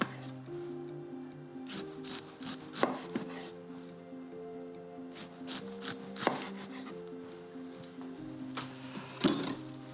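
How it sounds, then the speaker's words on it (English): A knife slicing fennel into thick slices on a board, a run of crisp irregular chops and taps close up, with faint clinks and a low tonal hum in the background, no speech. "I want to cut this into slices about 1 centimetre thick."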